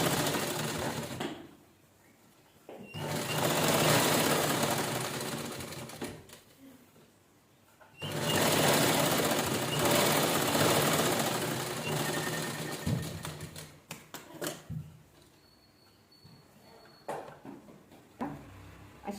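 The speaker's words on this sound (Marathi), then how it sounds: "अशी शिलाई करून घेतली तशी आता उभी शिलाई करून घेऊया." A sewing machine stitching blouse fabric pieces into a cushion cover, with two long bursts of rapid, even whirring and clatter separated by a pause, then short stop-start runs and quieter handling near the end.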